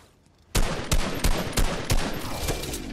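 Gunfire in the video game Fortnite, a sudden burst of sharp repeated shots in rapid rhythm, loud and close, continuing as dense fire after starting from near silence.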